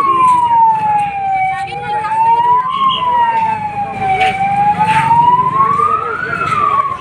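A loud wailing ambulance siren rising and falling in slow sweeps, close by, over street traffic noise.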